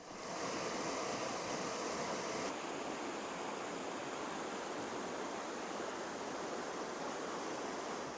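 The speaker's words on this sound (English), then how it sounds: "the tranquil sounds of the river" Steady rushing water of the River Mosel flows without pause, a broad, even wash of sound close by in forest near Eltz Castle, with no voices.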